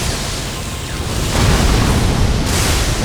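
A boss attack explosion in the Elden Ring DLC game erupts as a broad, loud roaring blast that swells midway and sustains its rumbling wash to the end, with no talk.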